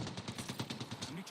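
Apex Legends gunfire rattles off in a rapid automatic burst of about a dozen close, evenly spaced shots. The burst is loud and dense throughout.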